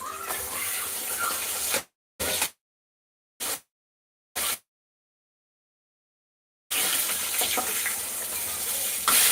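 Fish frying in a pan gives a steady sizzle that cuts out into silence, returns in a few short bursts, then comes back steady near the end.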